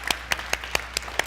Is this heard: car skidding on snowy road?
no